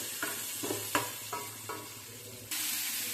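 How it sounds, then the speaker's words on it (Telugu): Cashew nuts fry in hot oil in a pan, giving a steady close sizzle broken by several sharp stirring scrapes, then a louder burst of hiss near the end. "ఇంకైతే జీడిపప్పులు అయితే వేగిపోయాయి"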